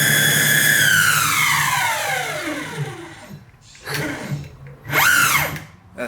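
A power tool whirs loudly while front wheels are fitted onto an electric longboard, its pitch sliding steadily downward as it spins down, followed by two shorter bursts of whirring.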